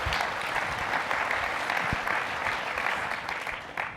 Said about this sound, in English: You can applaud Dan, it's okay.